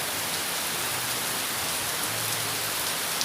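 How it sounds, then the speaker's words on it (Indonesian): Heavy rain pours down steadily as a dense, even hiss across the whole stretch, recorded outdoors beside a GX160 water pump engine, with no voices. "kebetulan ini lagi hujan"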